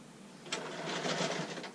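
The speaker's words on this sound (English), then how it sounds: "I'm going to sew about 1/4 inch all the way around. And I'll get that going." Sewing machine running steadily along the edge of an infant receiving blanket, stitching a quarter-inch seam; a moderate, continuous mechanical whir that starts about half a second in and carries on to the end.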